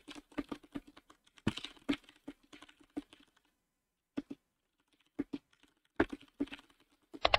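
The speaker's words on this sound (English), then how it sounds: "He's typing here" Typing on a computer keyboard during an online shogi game: bursts of close, crisp key clicks with irregular rhythm and short silent pauses between runs.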